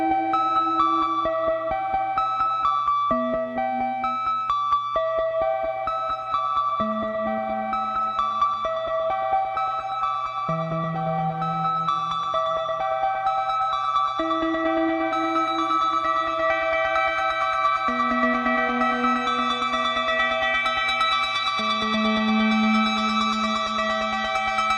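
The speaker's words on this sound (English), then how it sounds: "let's give this a listen with the reverb on it now" Sparse minimal synthesizer melody plays steady sustained notes with a long maxed-out reverb tail smearing each tone into the next, over a constant low drone, with no voices and no drums.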